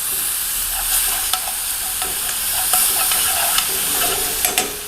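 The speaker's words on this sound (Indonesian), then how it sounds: "Kita tumis." Steady oil sizzle with scraping stir strokes and small sharp clicks as shrimp paste is stir-fried in a hot pan, close and continuous, no talking.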